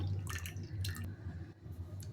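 Soft, wet dripping and squishing of water from a cloth holding fresh paneer, a few irregular drips close by and fairly quiet, with no voices.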